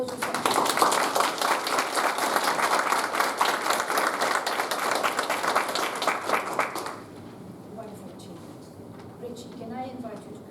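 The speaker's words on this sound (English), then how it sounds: "I would like to give you a very big round of applause" Course scholars receive a big round of applause at a closing ceremony, many hands clapping fast and dense for about seven seconds before breaking off into a quiet room with scattered voices.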